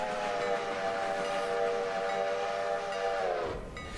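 A steam locomotive whistle in the railway game Railroader gives one long, loud, sustained chord-like blast that sags in pitch and cuts off near the end.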